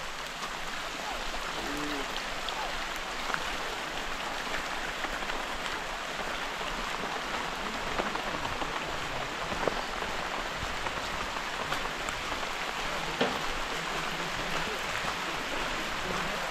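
Steady, dense rain pouring down at a waterfall trail with a constant hiss, spattering on surfaces all around and sounding close, with no voices.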